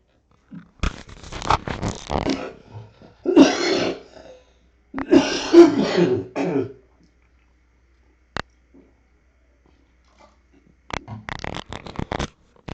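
A few short bursts of coughing and throat clearing, close and loud, separated by quiet gaps.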